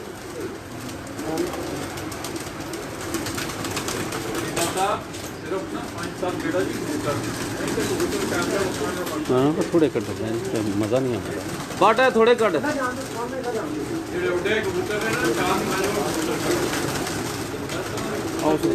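Breeder pigeons coo softly in pairs beneath steady conversation among several men, the low throaty calls blending into the chatter throughout.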